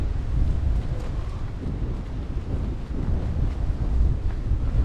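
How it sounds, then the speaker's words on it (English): Wind gusting on an Appalachian mountain trail in the Roan Highlands, a continuous loud low rumble buffeting the microphone, with no clear speech. "We're not as protected from the wind as we'd hoped, but I think it could be worse."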